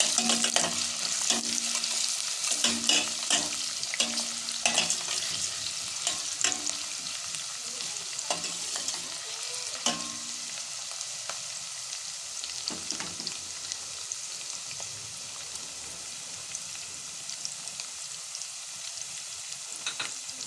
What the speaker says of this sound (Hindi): अब हम इसके अंदर प्याज डालेंगे। आधा कप हमने इसमें तेल लिया है। हम इसे फ्राई करेंगे।